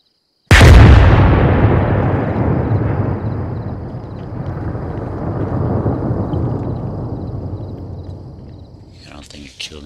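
An artillery gun in a video game fires with one sudden, massive blast, then a long booming rumble slowly decays over several seconds, followed by faint clicks near the end.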